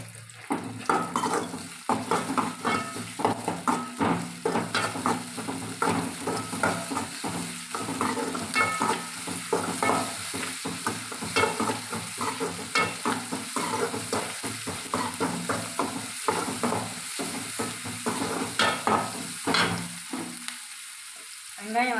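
Onions sauté in a pan with a touch of salt, a continuous crackling sizzle with frequent scraping stirs and light clatter of a spoon against the pan, close and busy throughout.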